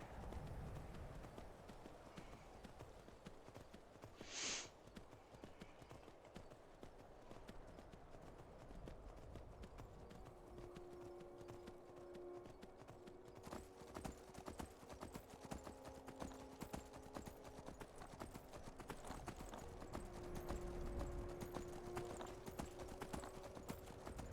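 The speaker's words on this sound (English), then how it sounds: "So we're going to take our horse" Hooves clip-clop in a steady rhythm as a horse travels along in Skyrim, faint and continuous, with a brief whinny early on.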